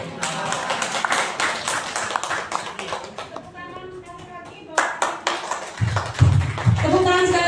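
An audience claps for a presenter at a teachers' training event, with irregular hand claps and taps of varying loudness while people talk throughout and a voice cuts in near the end.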